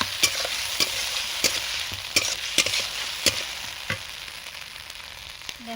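Ground onion, ginger and dried red chilli masala sautéing in a pan without water, a continuous sizzle punctuated by sharp, regular spatula knocks against the pan, close up.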